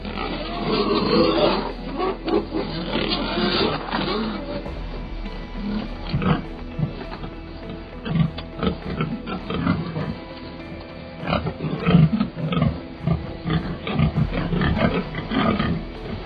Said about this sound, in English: they chase down these giant feral pigs